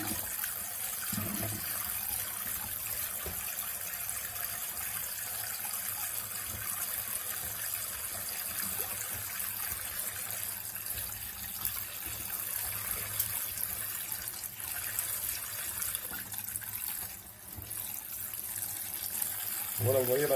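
Tap water running through a small instant electric water heater, a steady close hiss and gush of flowing water that continues throughout.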